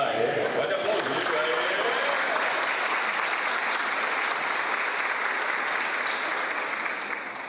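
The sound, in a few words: church congregation applause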